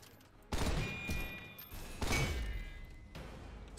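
Pistol fire in the video game Synthetik 2: two heavy, booming shot bursts about a second and a half apart, each fading into a rumbling tail over a low electronic hum.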